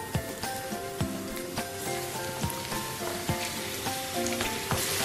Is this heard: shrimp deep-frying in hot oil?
yes